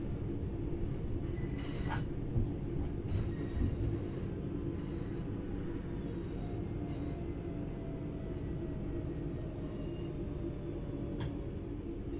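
A passenger train in the game Train Sim World 4 on the Barking Riverside line rumbles steadily as it brakes into a platform, with occasional faint clicks and ticks over the constant low drone.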